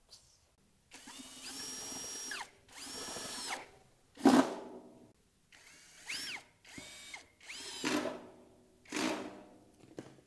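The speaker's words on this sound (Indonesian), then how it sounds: "selanjutnya kita akan sekrup bagian sampingnya" A power drill drives screws into the side panel of a school desk during assembly of a Red & White Merah Putih Merdeka student desk and chair set, with several short whirring bursts separated by pauses.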